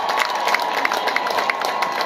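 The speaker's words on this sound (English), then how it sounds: "Let us give them another hearty clap." Graduation ceremony crowd at a university college clapping in a steady, dense patter, with rhythmic accents and crowd noise mixed in over a short stretch.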